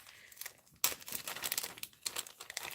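Tear and tape adhesive is pulled and torn in a quiet paper-craft setting: soft crinkling, then a sharper tearing burst followed by a few more crinkly pulls, close and faint.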